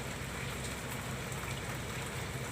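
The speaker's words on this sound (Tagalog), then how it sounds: "Maulan." Steady rain falling during a road trip in Taiwan, a soft continuous hiss of drops with no voices over it.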